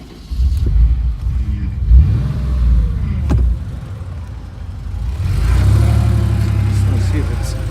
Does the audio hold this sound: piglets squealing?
no